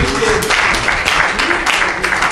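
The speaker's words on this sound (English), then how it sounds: "Can we clap for him?" Audience clapping at a football competition launch event, a steady broadband patter of many hands with a voice over it.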